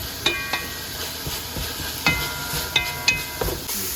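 Pepper steak sears in a pan with a soft steady sizzle while a utensil scrapes and taps against the metal in a handful of irregular strokes, close by and without talk.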